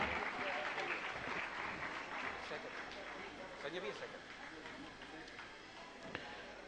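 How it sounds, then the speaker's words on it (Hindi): Quiet applause from an audience at a religious discourse gathering as a student's exam ranking is honored, a soft, even patter of many hands that continues throughout. "जोरदार तालियां बजाएं"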